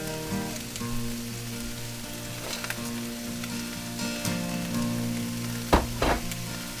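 Cooked bacon goes into a hot pan with sautéing pierogies and sizzles steadily, a close, crackly frying hiss with a few sharper pops and clatters partway through.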